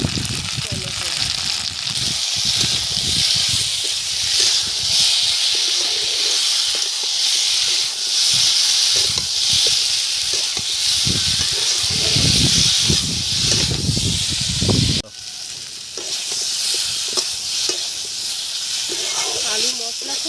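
Potatoes fried with salt, chili, turmeric and tomato hiss and sizzle loudly and steadily in a pan in a village kitchen, with a brief sharp interruption partway through.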